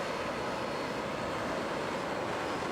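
Harrier jet engine roaring as a steady, loud broadband rush with a faint high whine, continuous throughout with no talk.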